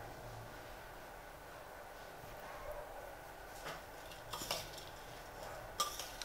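A spoon mixes matki bhel, a sprouted moth bean snack, in a bowl: quiet scraping at first, then a few sharp metallic clinks and taps toward the end.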